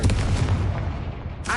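A fire-blast spell going off in Hogwarts Legacy, a single loud, close explosion with a deep boom that rumbles and decays over about a second.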